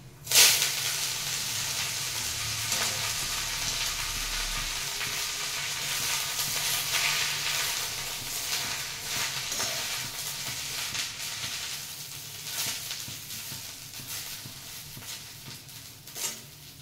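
Leafy greens frying in a pan with nigella seeds, producing a continuous close hissing sizzle with occasional sharp crackles and stirring scrapes, no talking.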